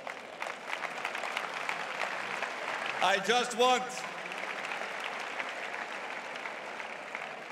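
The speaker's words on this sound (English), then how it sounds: "to give you a big round of applause" Steady applause from a crowd at a political party conference fills the whole stretch, with a voice briefly speaking over it midway.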